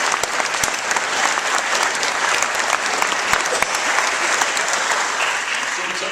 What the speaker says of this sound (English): So please give our staff a round of applause.